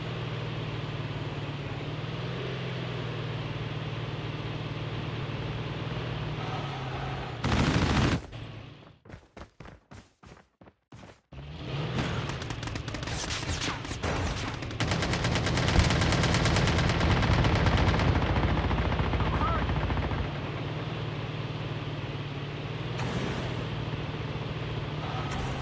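Sustained gunfire in the video game Call of Duty, loud and dense, with bursts of rapid shots, a brief near-silent break broken by sharp cracks, then heavier continuous firing and rumbling.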